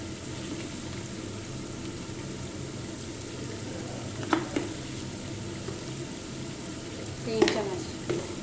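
Biryani masala frying in a pot, a steady low sizzle with a few sharper stirring scrapes near the end, heard alone without talk.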